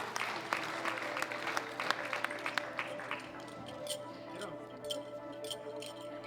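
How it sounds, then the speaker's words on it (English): Audience applause for the winners at a junior world powerlifting championship, a moderate clatter of clapping that thins and fades toward the end, with scattered crowd noise. "Big round of applause for all of our winners."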